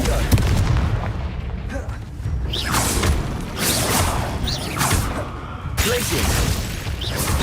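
Booming blasts of the Confringo spell explosion effect in a game, loud and close, several bursts over a dense continuous rumble, with a voice calling out the spell.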